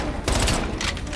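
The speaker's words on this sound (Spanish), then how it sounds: "Me disparan de todos lados." Bursts of gunfire in the Call of Duty: Black Ops Cold War campaign on PlayStation 5, loud, dense shots coming from several directions over roughly a second, with a sustained crackling roar.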